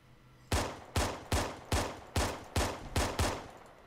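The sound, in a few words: weapon gunfire from video game Arma 3 Halo mod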